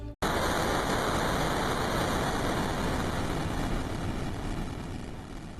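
Horror-form Owakix (Lime) from the Sprunki game mod makes a harsh, roaring wall of static-like noise that starts abruptly and holds loud and constant for several seconds, with no talking.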